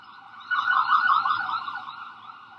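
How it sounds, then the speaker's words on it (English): An emergency vehicle siren wails on a very noisy city street, a loud wavering tone that swells in abruptly, holds for about a second, then slowly fades, with no talk over it. "And I don't want to just be screaming over sirens."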